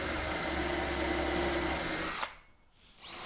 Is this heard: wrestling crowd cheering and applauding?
no